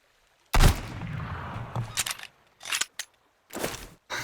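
Gunfire in the survival game SunkenLand during a raid on a mutant settlement at an amusement park, opening with a heavy shotgun-like blast and its rumbling tail, then a scatter of quicker shots and clacks with brief silences between.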